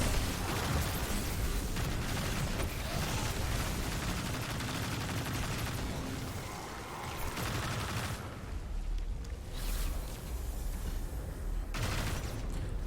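Gunfire in Destiny 2 as a Warlock shoots runes in the Veles Labyrinth lost sector: dense rapid bursts, pops and explosive blasts keep up almost continuously, with brief lulls near the end.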